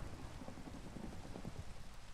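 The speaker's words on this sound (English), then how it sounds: "Oh, it's raining." Steady rain with a low rumble of thunder in a Minecraft world, a dense, continuous wash of noise with no voices.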